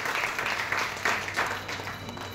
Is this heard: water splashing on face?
no